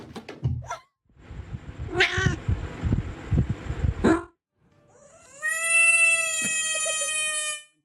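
An orange cat yowls and caterwauls in a loud, drawn-out scuffle with thumps and scrambling, followed after a pause by a long, high, wavering meow held for a couple of seconds.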